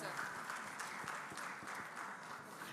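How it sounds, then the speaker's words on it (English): Audience applause at a panel event on democracy and development in West Africa, a steady, dense wash of clapping sustained throughout at moderate loudness with a faint voice underneath. "I think that deserved a round of applause."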